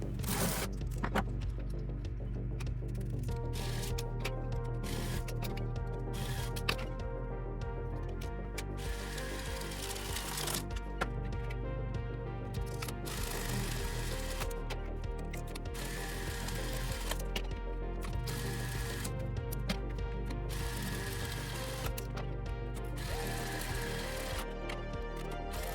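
An electric airsoft speed loader feeds BBs into magazines with a continuous, busy mechanical rattle of gears and ratcheting clicks, steady and close throughout.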